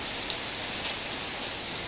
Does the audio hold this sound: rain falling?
yes